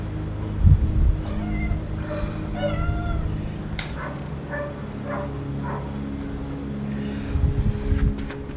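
A cat meows several times at close range, a run of distinct mews spread across the stretch with short pauses between them, over a low steady hum.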